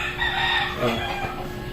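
A rooster crows at moderate distance, one long strained call that rises and then trails off over a low background hum.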